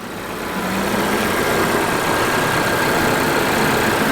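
A 2019 Volvo S90's 2.0-liter, 250-horsepower engine idles under the open hood, a steady low rumble that holds even and continuous throughout with no talking.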